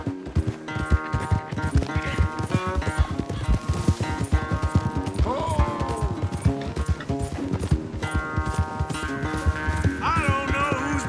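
Horses galloping in a race in Red Dead Redemption 2, with a fast, continuous clip-clop of hooves close by, a whinny partway through and a musical score underneath.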